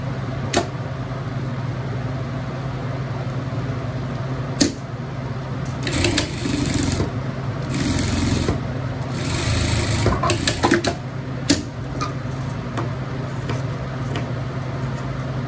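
Sewing machine stitching a seam on a fabric pet fancy-dress costume, with a steady close mechanical whirr broken by short clicks and brief faster bursts of stitching.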